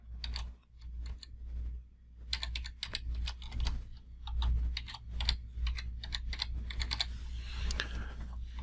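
Rapid keystrokes clatter on a computer keyboard, steady and close, with a low hum underneath and a few short pauses in the typing.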